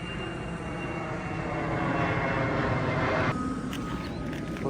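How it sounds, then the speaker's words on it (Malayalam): An airplane passing overhead, hidden by cloud cover on a rainy day near a lake, sounds as a steady, broad engine roar that swells slightly and holds throughout, fairly distant with no talk. "ഇപ്പം നോക്കിയേ, മണ്ണിൽ കൂടെ പ്ലെയിൻ പോകുന്നുണ്ട്."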